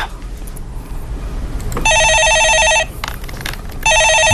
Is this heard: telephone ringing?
yes